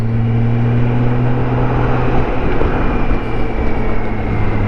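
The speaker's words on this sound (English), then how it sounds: "sure is fun driving a motorcycle." A motorcycle being ridden on a sunny spring day gives a steady, loud engine drone mixed with rushing wind, continuous throughout with no talking.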